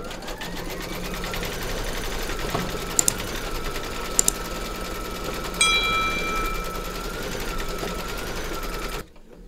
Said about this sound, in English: Pop your hoop into your machine and stitch round number 7 to secure it